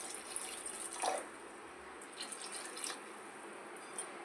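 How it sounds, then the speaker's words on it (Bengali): Water poured into a pan while cooking Bengali fish curry, a steady splashing trickle with brief louder gushes and drips, close and fairly quiet, with no talking. "আর দিয়ে দিচ্ছি পরিমাণ মতো জল।"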